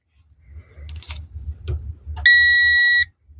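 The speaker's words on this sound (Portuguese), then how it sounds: "Vou encostar aqui nesses parafusos aqui, só para ver se ele bipa" A single steady electronic multimeter continuity beep, loud and high-pitched, lasting under a second after some faint handling noises and clicks as probes touch vehicle screws.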